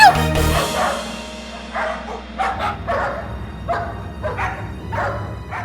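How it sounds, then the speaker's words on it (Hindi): A pack of street dogs in an animated series barks repeatedly, starting with a loud close burst, then a run of irregular yips and barks of varying strength over a low background hum. "गली के कुत्तों की फौज अब तुम्हें पूरी गली दौड़ाएगी।"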